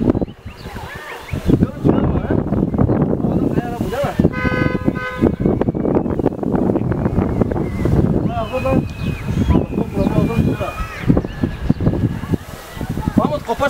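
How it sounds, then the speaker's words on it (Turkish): Gusty wind rumbles across the microphone under lively talking while flying a kite, with a short tooting horn-like tone partway through. "Hava rüzgarlı o yüzden hemencik kalktı."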